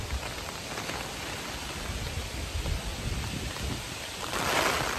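Rain that has just begun on a gusty morning, driven by strong wind, a dense steady roar of drops with rumbling low gusts that swell louder near the end, and no voices.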